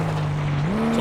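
A car drifting in Flatout 2, a steady engine drone with a sustained tire-squeal tone that bends upward near the end, loud and close.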